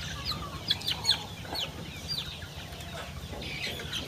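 Farm chickens being treated for eye problems give short, scattered clucks, soft and fairly close, over a low background hum with no talking.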